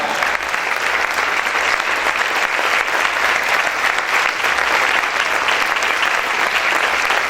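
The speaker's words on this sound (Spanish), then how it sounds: "Sigue aplaudiendo en esta hora." Dense, unbroken applause from a church congregation, hundreds of hands clapping in a steady, loud, reverberant roar with no voices standing out.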